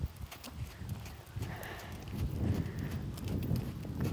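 A Standardbred mare canters under a rider, her hoofbeats a soft, fairly steady pounding that grows a little stronger toward the end, with no voices over it.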